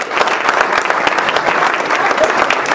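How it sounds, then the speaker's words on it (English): At a TaxAct company party, the audience breaks into loud, sustained applause for a magic act's helper, a thick, even crackle of many clapping hands that holds steady from start to finish. "Everybody give a round of applause."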